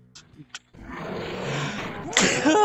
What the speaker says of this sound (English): I'm sneezing while shooting